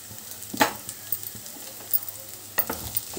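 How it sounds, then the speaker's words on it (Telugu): Masala fries in a pan for egg curry with a soft background sizzle, broken by scattered clinks and scrapes of a spoon stirring. "మసాలా చక్కగా వేయించుకోవాలి."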